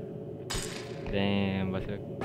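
In the video game R.E.P.O., glass breaks with a sudden bright shattering crash, followed by a brief ringing clink, while a voice talks over it.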